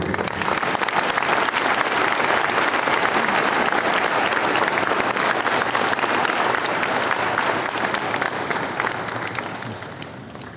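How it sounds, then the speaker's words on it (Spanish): Sustained, dense applause from a large crowd at a university of medical sciences and nursing inauguration ceremony, holding steady for several seconds and gently fading near the end. "Merecidos los aplausos para él, familiares y amigos."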